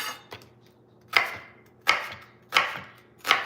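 A knife chops celery for tuna salad on a cutting board, four sharp, evenly spaced strikes plus a lighter tap near the start, close and clear with no talking.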